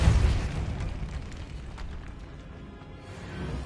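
A Depulso spell cast in Hogwarts Legacy, a forceful booming burst that hits hard at the start, then rumbles and fades over a few seconds, with no voices.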